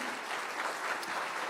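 At a kindergarten graduation ceremony, an audience gives a brief burst of hand clapping, a dense, even patter heard from a moderate distance.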